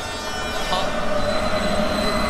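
Train rolling past a railroad crossing in the horror game Utsuro Mayu: a loud, steady rumble with a sustained metallic wheel squeal and a faint crossing bell tone over it, no talking.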